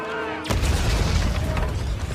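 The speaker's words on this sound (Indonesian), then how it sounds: "Faraday akhirnya berhasil meledakkan Bogu dan anak buahnya termasuk dirinya sendiri." A single heavy dynamite blast booms abruptly after a quiet moment in a Western gunfight scene from The Magnificent Seven, followed by a rumbling, debris-filled roar.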